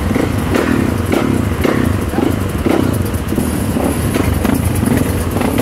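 A Yamaha WR 155 motorcycle engine revs loudly and close by in rough, repeated bursts with a clattering edge, running alone without talk.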